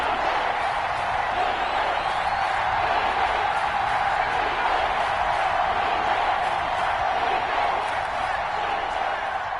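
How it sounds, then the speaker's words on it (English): A stadium crowd roars steadily in an American football video game ahead of a big third down, a dense, constant wash of cheering with no pauses. "the crowd getting into it as we come up on a big 3rd down"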